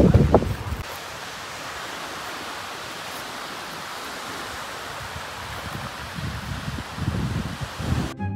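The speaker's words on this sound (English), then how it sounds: "It's very windy today, so hopefully this is recording my voice." Strong wind on a New Zealand mountain at night buffets the microphone in a continuous roaring rush, with heavier low gusts at the start and toward the end.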